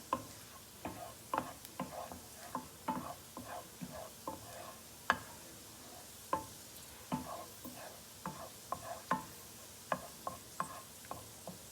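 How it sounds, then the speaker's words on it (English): A spoon stirs a chicken broccoli pasta casserole mixture in a pot, making a string of soft irregular clicks and scrapes against a faint low sizzle, quiet and close, with no talking. "One more stir here."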